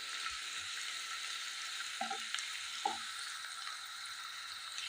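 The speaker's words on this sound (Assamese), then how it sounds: "মই আদা নহৰুখিনিও পিঁয়াজৰ সৈতে ভালদৰে ভাজি ল'লোঁ।" Onion, ginger and garlic frying in a pan for a soybean and chana dal dish, a steady soft sizzle throughout with a couple of faint clinks of a utensil, no talking.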